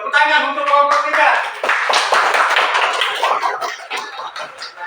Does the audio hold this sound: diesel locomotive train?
no